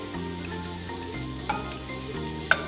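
Garlic and vegetables frying in a pan for a Cambodian thuk prahok dipping sauce, a steady close sizzle with a couple of sharp clinks from the stirring utensil.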